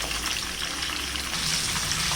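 Chicken balls frying in a pan of oil, a steady close sizzle and crackle with no voices.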